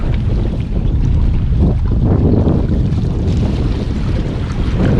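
Strong wind buffets the microphone on a Florida jetty, a loud, continuous roaring rush with surf mixed in.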